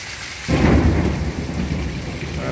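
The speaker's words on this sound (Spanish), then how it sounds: "Son los truenos, mano. Está lloviendo bastante" A deep rumble of thunder rolls in suddenly over steady, heavy rain pattering on surfaces near a magnolia tree, then fades back into the downpour.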